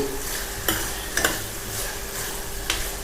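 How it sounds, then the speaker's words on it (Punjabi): Masala and arbi being stir-fried in a pan for arbi curry, with a steady sizzle and three sharp spoon scrapes and taps against the pan. "ਇਹ ਵੀ ਆਪਾਂ 2-3 ਮਿੰਟ ਭੁੰਨਾਂਗੇ"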